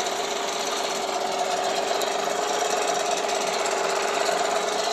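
A Singer 367 sewing machine stitches a straight and zigzag embroidery design with a steady rapid mechanical chatter, close and continuous throughout.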